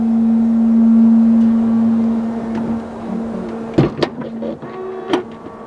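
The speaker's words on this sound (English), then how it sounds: "To close that rear lift gate, let's push that button and that'll close for us" A power rear lift gate on a 2007-2014 third-generation Cadillac Escalade ESV closes with a steady motor hum, followed by a few sharp latching clunks and clicks near the end, with no talking.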